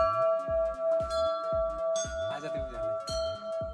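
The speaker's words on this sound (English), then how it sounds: "bell sound is amazing." A temple bell at the Tarkeshwar Mahadev Shiva temple in Lansdowne rings out in repeated metallic strikes roughly twice a second, each tone lingering and overlapping the next, loud and close.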